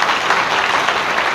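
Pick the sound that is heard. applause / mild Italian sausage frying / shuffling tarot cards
applause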